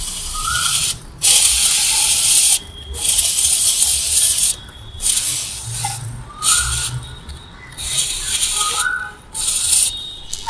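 Repeated long hissing bursts of diesel sprayed close up onto a Royal Enfield Classic 350 motorcycle chain, broken by short pauses, with a faint rattling in the background and a voice speaking now and then.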